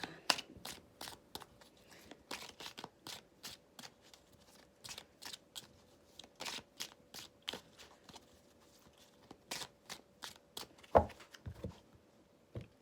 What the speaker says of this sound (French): On prend une carte message pour les cancers.